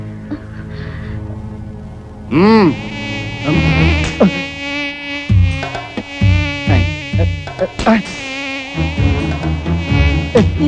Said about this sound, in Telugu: ఈగలు ఒకటి.